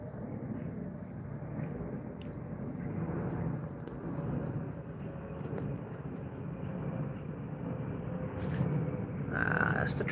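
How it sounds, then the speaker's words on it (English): A British Airways Boeing 777 flying over London, a steady low jet roar rising slightly toward the end, distant and continuous with faint ambient sounds around it. "That's the 777. Another one. It's a beauty. British Airways."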